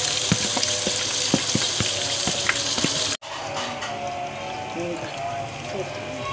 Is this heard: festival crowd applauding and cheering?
no